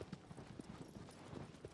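Horse hooves galloping in Shadow of the Colossus, a quick irregular clip-clop rhythm of soft hoof falls, faint and steady under a low background.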